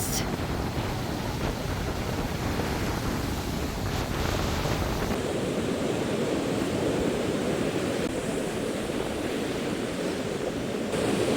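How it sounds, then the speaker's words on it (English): Big waves wash onto a rocky Rhode Island beach in a steady, loud roar, with wind buffeting the microphone; the surf noise shifts in tone partway through. "Big waves."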